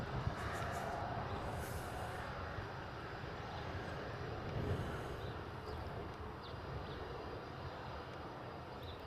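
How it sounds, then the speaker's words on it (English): A Boeing 737 MAX 8 airliner taxiing at a Hawaii airport at sunset, a steady, fairly distant jet engine rumble and whine with broadband roar holding constant throughout, no voices. "It's a MAX 8 heading off to Vancouver. It's currently taxiing down Romeo Bravo."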